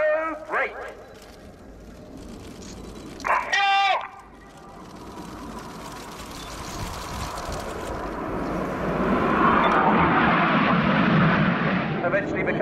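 BAE Hawk T1 jets of the Red Arrows flying a display at the RIAT 2017 Royal Air Force airshow, a broad jet roar swelling from distant to loud and steady over the last several seconds, with brief crowd voices early on.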